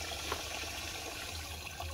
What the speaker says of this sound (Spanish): Y le voy a echar agua porque está muy puro.